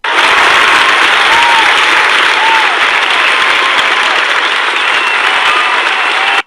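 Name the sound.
thunderous applause from a theatre auditorium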